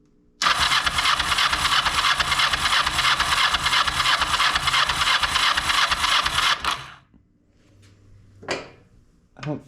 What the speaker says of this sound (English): So I wanted to see how it sounded turning over.